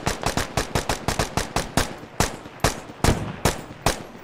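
Machine gun fire in the military shooter Squad: close, loud bursts of sharp shots, quick at first, then slower and spaced out, with no talk over it.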